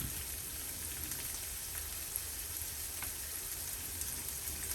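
Three quarters of a medium onion frying in a pan for a grilled turkey sausage dish, giving a steady, even sizzle and crackle throughout with no talking.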